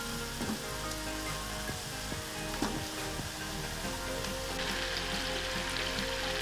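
Pork adobo with potatoes cooking in a pan, a loud, steady sizzle and bubbling with a few soft clicks and taps from a utensil.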